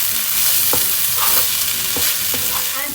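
Vegetable fried rice with soya sauce is stirred and tossed in a hot pan, a steady sizzle broken by scraping strokes of the spatula at an uneven rhythm, close and fairly loud.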